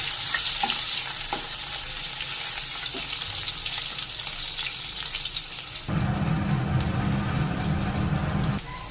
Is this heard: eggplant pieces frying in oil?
yes